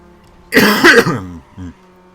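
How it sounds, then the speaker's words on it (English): A burst of harsh coughing, a few rough hacks close together, followed by one shorter cough; no speech. "Wow, I'm having some really bad coughs."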